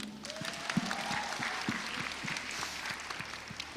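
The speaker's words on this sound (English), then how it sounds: "a huge round of applause for all of them" Sustained applause from an audience at the Miss Universe India 2026 top 11 judge Q&A, a dense steady clatter of many clapping hands with a few sharper claps standing out and a faint tone drifting underneath.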